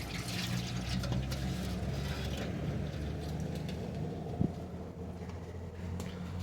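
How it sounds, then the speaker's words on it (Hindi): Air-conditioner condensate water falling beneath a Renault Duster during a workshop service, a continuous splashing patter with one brief knock partway through. "और ये जो पानी गिर रहा है, कभी भी ये गाड़ियों के नीचे जब ये पानी गिरता है तो कभी भी डरे ना, क्योंकि एसी का पानी होता है।"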